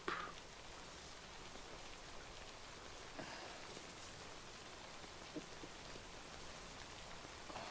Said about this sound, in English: Shouldn't really stay in the rain though.